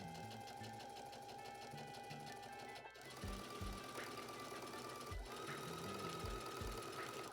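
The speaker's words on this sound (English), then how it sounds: "Then you're going to pin them together and sew the rise with a 3/8 inch seam allowance." A sewing machine stitching the rise seam of wide-leg trousers, a steady close mechanical hum and rapid needle knocking that pauses briefly and then resumes.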